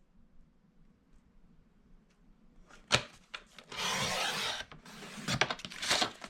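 Paper trimmer slicing through decorated cardstock, a few quiet clicks followed by a rough sliding scrape of the blade, then a second gritty cutting pass close by with no talking.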